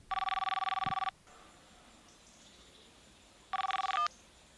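A telephone bell rings loudly in two bursts, a long ring of about a second, a pause with faint room noise, then a second shorter ring, heard alone and close.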